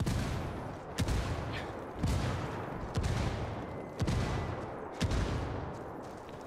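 Heavy gunfire in a Ghost Recon Wildlands firefight, with sharp shots landing about once a second over a steady roar of continuous firing, loud and close throughout.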